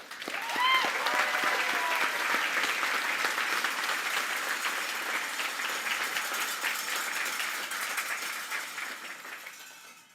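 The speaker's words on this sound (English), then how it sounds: "Round of applause for Allie." An audience at a corporate event applauds an honoree, with brisk, dense clapping swelling in quickly and holding at an even, full level for about ten seconds before tapering off.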